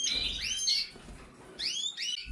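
Pet canaries kept in a small indoor breeding space chirp in bright, rising whistled phrases, two bursts separated by a short pause, close and clear with no talking.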